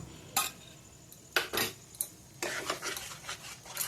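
Yogurt and spice mixture tipped into hot oil in a pan for palak paneer, then stirred with a utensil: a few scraping strokes, then steadier rasping against the metal, close and moderately quiet with no talk.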